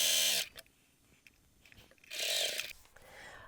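A sewing machine top stitches around a bag, with two loud whirring bursts of stitching separated by a quiet pause.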